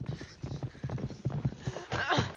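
Horse hooves clop in a steady rhythm in a tense film scene, with heavy breathing close by while the background score has dropped almost to silence.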